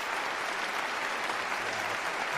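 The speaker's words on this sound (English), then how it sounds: "Clapping for ourselves" Podcast hosts and a studio audience clap together, a dense, steady burst of applause that holds at an even level throughout without a clear break.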